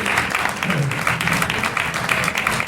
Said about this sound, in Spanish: Fuerte aplauso para el embajador de las marcas emergentes.